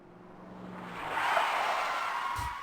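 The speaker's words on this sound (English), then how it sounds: "tires screeching. He's just like speeding to the house." A car speeds along with tires screeching in the police adventure game Police Quest 4, a broad hiss swelling to a sustained squeal in the middle and then easing off, with a faint low engine hum underneath.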